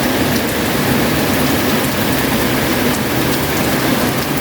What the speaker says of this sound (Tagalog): pag ganitong umuulan